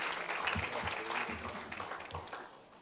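Audience clapping at a district seminar, a faint, brief round of applause from a room of people with a few stronger claps, fading toward the end.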